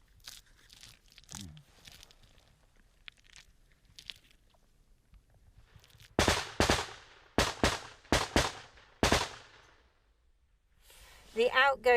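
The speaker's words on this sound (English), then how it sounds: "The outgoing machine gun fire from the Ukrainians is aimed at suppressing the Russians so they don't fire back." Outgoing Ukrainian machine gun fire on a front line arrives as a string of sharp, loud bursts, distinct reports separated by short gaps after a quieter stretch with faint talk and small noises.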